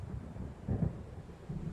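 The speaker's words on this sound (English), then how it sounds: "It seems there's a storm coming." Low, muffled rumbles of thunder from a storm rolling in within the Alan Wake video game, faint and distant with a swell in the middle and another soft rumble near the end.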